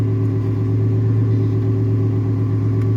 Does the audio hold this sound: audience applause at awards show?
no